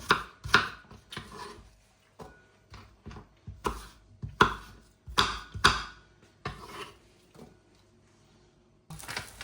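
Knife chopping an apple into cubes on a board: a series of sharp, close thuds in irregular bursts, with a few pauses in between and no talking.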